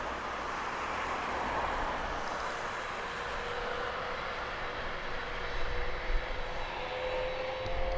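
An aircraft taxis at East Midlands Airport at night, its engine producing a steady, broad roar that holds evenly throughout with no voices.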